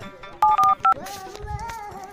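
Three quick touch-tone beeps of a phone number being dialled ring out loudly in close succession, followed by softer electronic tones and faint background murmur.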